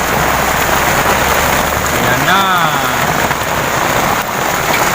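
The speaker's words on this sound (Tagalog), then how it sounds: "Lakas ng ulan mga kanudong." Heavy rain pours steadily outdoors in a dense, constant wash of noise, with a brief voice speaking over the downpour midway.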